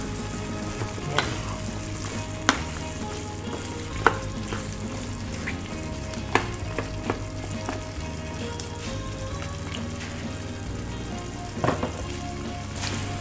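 Carrots fry in a pan for pork menudo, giving a steady, dense sizzle throughout with a few sharp clicks of stirring on top.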